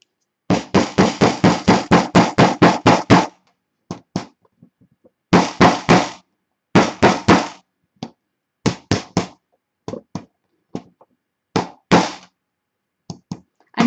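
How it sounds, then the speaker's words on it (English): A hammer drives nails into wood while a knitting loom is being built, sharp loud knocks in quick rapid runs, then sparser single taps with short silences between, close by and with no speech. "And knock your nails in."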